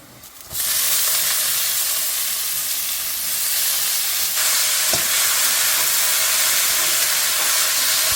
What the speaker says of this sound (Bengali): এখানে পেঁয়াজ ফোড়ন দিয়েছি এইবার আমি শাকটা ছেড়ে দেবো